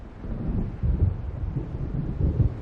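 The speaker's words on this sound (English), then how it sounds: "It seems there's a storm coming." Distant rolling thunder of an approaching storm in Alan Wake Remastered, low rumbles swelling in a few waves alongside wind noise, with no voices.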